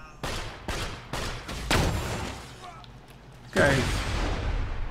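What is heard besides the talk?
gunfire in the video game Borderlands 2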